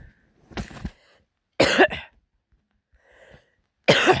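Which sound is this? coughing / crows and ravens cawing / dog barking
coughing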